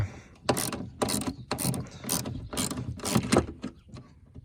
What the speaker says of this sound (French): Je dévisse la vis tout de suite